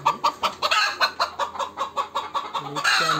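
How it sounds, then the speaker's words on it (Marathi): Hens in a poultry shed cluck in a quick, rhythmic series of close, loud calls, about a dozen bursts in a row, with no voices. "हे बघा कोंबड्या अंड्यावरती काही अंड्या देण्यासाठी काही जातात"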